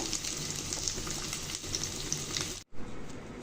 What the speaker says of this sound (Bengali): আমি 3-4 মিনিটের মতো নাড়াচাড়া দিয়ে হালকা তেলে ভেজে নিয়েছি